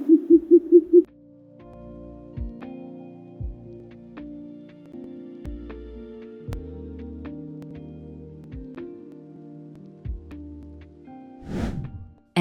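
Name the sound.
short-eared owl call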